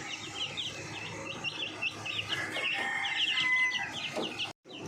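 Young chicks chirp and cluck busily inside their new poultry house, a dense, continuous chorus of high peeping calls up close, ending with a brief dropout of silence.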